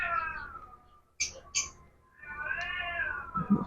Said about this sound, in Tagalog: Yan na naman yung pusa.